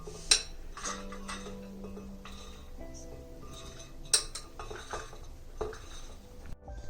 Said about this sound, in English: So I put the mixture inside the blender.